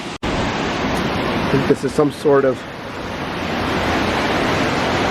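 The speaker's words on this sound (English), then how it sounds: "We've got this gorgeous waterfall here" Steady rushing water from a small waterfall where visitors sit with their feet in it, at a handmade hidden amusement park, a loud constant broadband roar filling the clip while someone speaks briefly over it.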